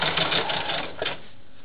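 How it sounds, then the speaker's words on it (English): A Husqvarna Viking sewing machine stitching quilt block pieces with a quarter-inch foot, a steady rapid mechanical whir that stops abruptly near the end, leaving quiet room hum. "Now my Husqvarna Viking sewing machine, which I usually use to do my sewing on, it has a 1/4 inch foot."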